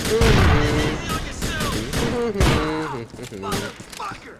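Gunfire in GTA 4 The Lost and Damned, loud bursts of shots and booms packed close together, with someone talking excitedly over the shooting throughout.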